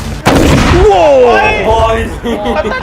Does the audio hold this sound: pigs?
no